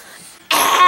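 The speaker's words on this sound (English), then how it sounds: "Let's zoom in on her cough again." A single sharp cough bursts out after a quiet moment, loud and close, with a raspy, throat-clearing edge.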